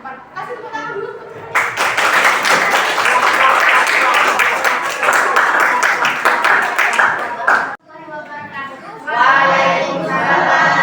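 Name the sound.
audience applause for a class presentation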